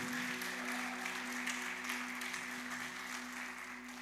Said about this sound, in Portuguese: E Everson, receba as palmas da igreja